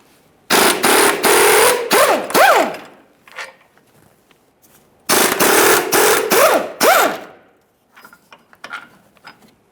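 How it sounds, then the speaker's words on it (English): Two 18mm bolts coming off the front lower control arm of a 2013-2020 Ford Fusion 2.0L I4, shown by two loud bursts of rapid impact-wrench hammering, each with a rising whine, separated by a short pause, close and with no talk. "essentially we're going to remove these 2 18mm bolts"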